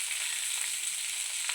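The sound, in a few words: onions frying in a pan for fish curry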